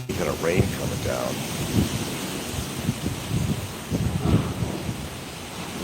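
Blustery wind with light rain during Typhoon Tino on Bantayan Island, a constant gusting roar with soft patter underneath and faint voices in the background.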